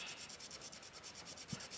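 Sandpaper rubs back and forth over the glued surface of a cowhide arrow pass in steady, quick, rhythmic strokes, quiet and close with no talking.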